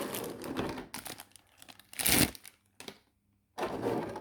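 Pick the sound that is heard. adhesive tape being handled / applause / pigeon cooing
adhesive tape being handled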